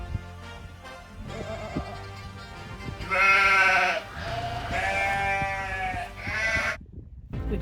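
A group of thinhorn sheep nannies and lambs on a hillside in northern British Columbia bleat repeatedly, with several overlapping calls, some louder and closer than others.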